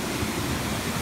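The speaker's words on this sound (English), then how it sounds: "we're standing amazing river / waterfall" Rushing water at a river waterfall, a broad, constant roar of turbulent flow, fairly loud and steady throughout the short stretch with no voices.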